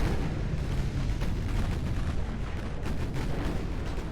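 Naval guns fire high-explosive shells in a warship battle game, a dense, continuous roar of booming gunfire and blasts, loud and unbroken.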